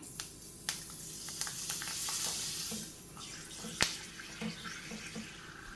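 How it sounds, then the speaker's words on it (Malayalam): Pappadam sizzles and crackles in hot oil in a Kerala kitchen, a steady hiss with scattered sharp pops and one louder snap near the middle, faint and close with no talk. "നമുക്ക് ഓരോ പപ്പടം വറുത്തെടുക്കാം."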